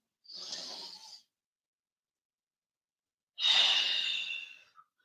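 Two long, breathy exhales during a vinyasa yoga flow, separated by a pause of silence, the second stronger and more forceful than the first, close and alone.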